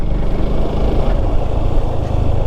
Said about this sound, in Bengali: আমি তো পুরো ইঞ্জিন ব্রেকে নামতেছি